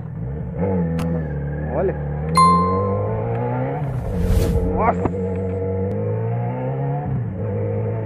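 A Yamaha XJ6 motorcycle engine idles and revs in a few rising pulls, loud and close, while someone speaks briefly over it.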